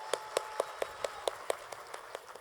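A small audience at an indoor product demo for aloe vera gel in a transparent bottle claps in an evenly spaced run of about ten sharp claps, fading toward the end over a steady hum of background noise.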